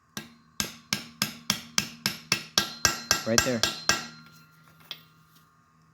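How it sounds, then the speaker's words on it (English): A small hammer taps a 17mm socket to seat a valve stem seal on a Hyundai Tucson engine, about a dozen sharp metallic taps in a steady rhythm, close and loud, followed by one last tap and a brief spoken remark. "you give it a few taps with a small hammer, and you're gonna hear the sound change"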